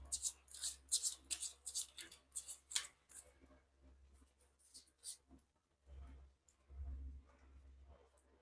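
Tarot cards are shuffled by hand in quick bursts of crisp riffling and flicking, dense at first, then fading into sparse soft rustles with a low steady hum underneath.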